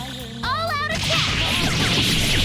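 Persona 5 Royal all-out attack effects: loud, dense slashing whooshes and impacts fill the stretch after a short rising synth flourish, with a brief game voice near the start.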